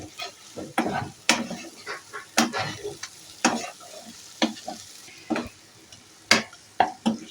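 Green chillies and spices for chicken dopiaza are stirred in a pan, with a spatula scraping in close, irregular strokes over a low sizzle. No one speaks.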